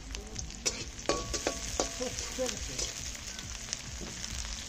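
Chopped onion, green chili and garlic sizzle and crackle steadily in hot mustard oil in a home kitchen, close and continuous, with a few scrapes of stirring over the frying.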